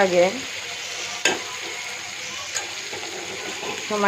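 Prawns sizzle steadily in a hot pan over low heat, with a utensil clinking and scraping now and then and a brief voice at the start.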